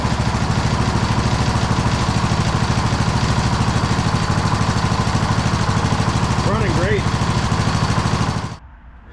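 A repaired Kohler Courage small engine, previously cracked, idling close by with a steady loud chugging rumble for about eight seconds before cutting off abruptly, leaving near silence.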